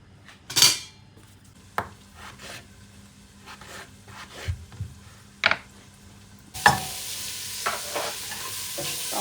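Vegetables frying in a pan with olive oil and onion while borscht is being made, with close spoon stirring and utensil clinks over a steady sizzle that grows louder and hissier near the end.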